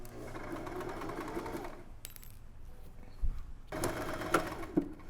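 Sewing machine stitching dress fabric along a curve, heard as a quiet rapid mechanical whir in two bursts separated by a pause, with a few small clicks and taps, fairly faint, with no voices.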